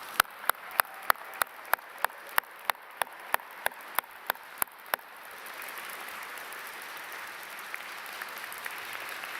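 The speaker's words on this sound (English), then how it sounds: "why don't we give ourselves a round of applause for that?" Sharp, evenly spaced claps stand out for about five seconds, then give way to a softer, steady wash of crowd applause at a university public policy commencement ceremony in an indoor arena.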